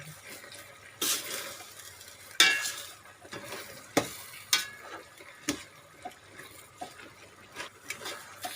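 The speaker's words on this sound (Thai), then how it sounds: "เอาไปผัดเข้ากับน้ำพริกก่อน มันจะได้เข้าเนื้อ" Pickled bamboo shoots are stir-fried with chili paste for a Thai chicken curry, with low sizzling beneath sharp, irregular scraping and clanking strokes of a utensil against the pan, close up and without speech.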